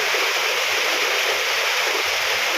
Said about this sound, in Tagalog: Apaw din po ang river dito.